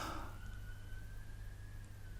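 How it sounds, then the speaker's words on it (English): A distant siren wails steadily over low traffic rumble, its tone holding and drifting slightly as it passes, with no talking. "Sorry, sirens going past."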